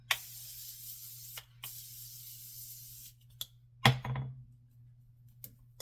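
Makeup setting spray misted from a bottle, a few sharp airy hisses, two longer sprays then short puffs, close and clear over a faint low hum.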